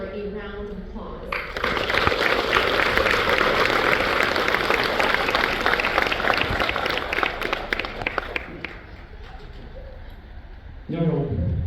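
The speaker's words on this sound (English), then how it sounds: "a round of applause" An audience claps in a round of applause at a class of 2026 graduation ceremony, a dense sustained ovation that swells after a spoken introduction and fades out before speech resumes.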